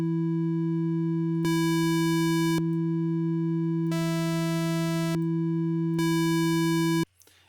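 Synthesizer tone blending a square wave and a sine wave, a sustained steady pitch whose timbre shifts between pure and buzzy harmonic-rich sections in several switches, then cutting off abruptly near the end.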